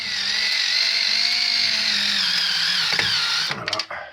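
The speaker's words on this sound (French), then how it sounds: "maintenant avec la perceuse, enfin avec la visseuse" A cordless electric screwdriver whines steadily and loudly as it drives screws while a mosquito screen is fitted, ending in a few short ratcheting bursts as the screw seats.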